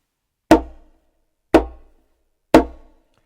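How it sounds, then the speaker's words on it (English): Three sharp, loud conga slaps struck by hand, each a bright, high crack with a short ringing decay, evenly spaced about a second apart with nothing else around them. "The slap sounds like this."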